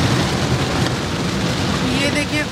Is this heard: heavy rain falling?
yes